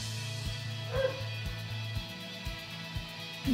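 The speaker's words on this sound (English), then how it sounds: "And that's the dog." A dog barks several times in a steady rhythm, sharp yips at about half-second intervals, close and moderately loud, with no talking.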